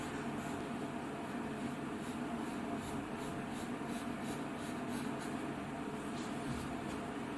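Pencil sketching lines on paper to enlarge a design, a steady soft scratchy rubbing close to the microphone with faint rhythmic strokes under a constant background hiss.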